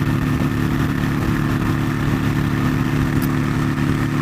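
A Honda Shadow motorcycle engine rumbles steadily at a constant, loud, low throb from the rider's position, with no talk over it.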